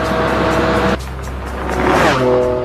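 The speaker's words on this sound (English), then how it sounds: "pushing his Ferrari to nearly triple the speed limit" A Ferrari supercar driven at high speed, its loud engine holding a steady harmonic drone, dropping briefly near the middle and then climbing back up in pitch as it speeds on.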